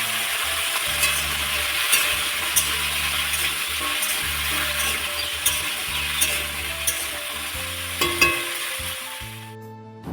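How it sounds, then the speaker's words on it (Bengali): Pumpkin fries in oil with nigella seeds, dried chilli and garlic, a steady close sizzle broken by scraping stirs every second or so, fading slightly before ending. "এইভাবেই কিন্তু আমি মিষ্টি কুমড়াটা ভাজা করে নিই"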